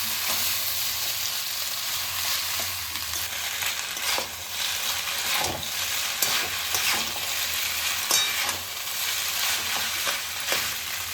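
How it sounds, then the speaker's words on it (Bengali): Vegetable chowmein noodles fry over low gas in a pan, giving a continuous soft sizzle broken by repeated scraping and tossing strokes from stirring, fairly close and steady throughout, with no talking. "এবার চাউমিনটা আমি খানিক্ষণ এইভাবে নেড়ে ফেড়ে নেবো"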